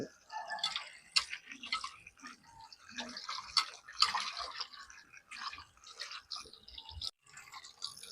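Sardines are rinsed by hand in a bowl of water. Close splashing, sloshing and dripping come in irregular bursts throughout, at a modest volume.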